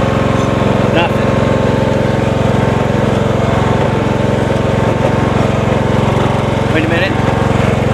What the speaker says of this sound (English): I don't know if you guys can hear that clunking.